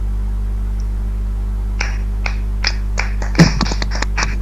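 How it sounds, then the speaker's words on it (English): Scattered hand claps from a small group during an online training session, a few sparse separate claps building to a brief denser cluster, heard over a steady electrical hum. "Some 2-3 guys did not clap your hands."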